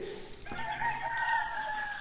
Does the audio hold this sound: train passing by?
no